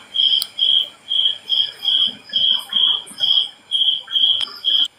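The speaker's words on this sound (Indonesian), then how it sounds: "Jangkriknya kencang dong." Crickets chirp loudly in the countryside in a steady rhythm, about ten evenly spaced pulsing trills over a faint background.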